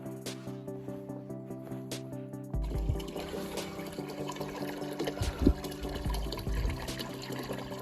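Water pours and trickles into a container for pigs on a farm, the flow growing heavier partway through with splashing bursts, alongside faint background tones and clatter.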